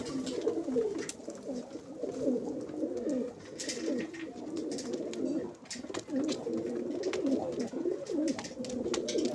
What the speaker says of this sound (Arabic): بس حمام بطل، هذا حمام من اقله بطل، حمام بطل عراقي قديم